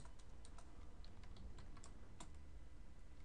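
Faint, quiet typing on a computer keyboard, with irregular light key clicks spread over a few seconds against a soft background hiss and no speech.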